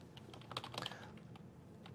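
Keys clatter on a computer keyboard in a quick, uneven burst of close, soft taps, with a denser cluster of strikes near the middle and no voices.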